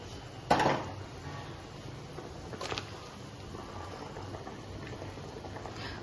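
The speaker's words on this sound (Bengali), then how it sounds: "দেখো ঝোলটা কিন্তু খুব ভালো করে ফুটতে শুরু করে দিয়েছে।" Fish curry broth for a boal fish head recipe bubbles at a steady rolling boil in a pan, a soft continuous seething with a couple of brief louder pops or clinks near the start, no talk.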